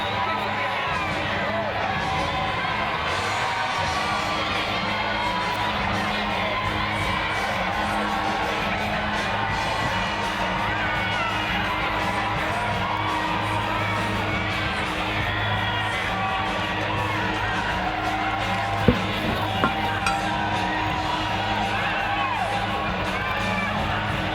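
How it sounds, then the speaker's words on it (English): Roller derby crowd at a Mad Rollin' Dolls bout cheering wildly, a dense sustained roar of shouts, whoops and screams that holds steady for the whole stretch, loud and enveloping. "This time I don't even have to say, and the crowd goes wild"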